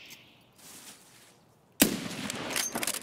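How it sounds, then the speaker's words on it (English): A single sharp gunshot from the 215 rifle in a shooter video game cracks out loud and close after quiet game ambience, then is followed by a stretch of busier, clattering action noise. "I shot him in the knee with the 215"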